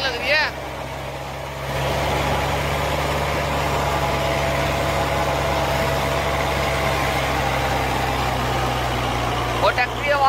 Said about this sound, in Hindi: ट्रैक्टर की आवाज सुनो भाई कितनी गजब होती है उस टाइम